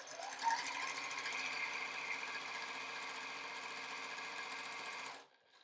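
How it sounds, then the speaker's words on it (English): A sewing machine stitches quilt pieces in a continuous chain-piecing run, a fast steady mechanical whir and clatter heard up close with no talk, stopping abruptly at the end. "And then, I'll sew another one."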